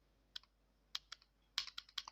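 Computer keyboard keys pressed while entering data in accounting software, a few sparse taps followed by a quicker cluster of crisp, close clicks, quiet and alone.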